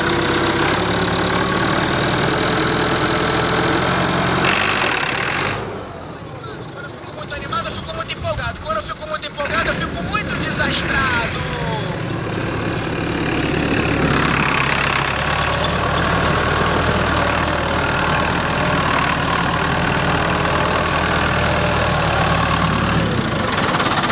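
A farm tractor engine revs and idles loudly and steadily, dipping briefly before picking up again to a sustained drone, with people talking over it.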